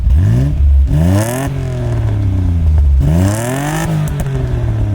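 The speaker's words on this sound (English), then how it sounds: "Nice exhaust down below. Let's hear it." A 1987 Nissan 300ZX Fairlady Z exhaust revs loudly twice, engine pitch sweeping up and dropping back with a deep throaty rumble and crackle, close by.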